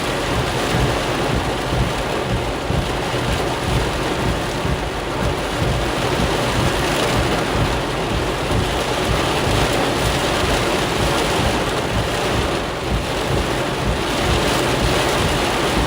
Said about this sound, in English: As you can see, it is really raining hard.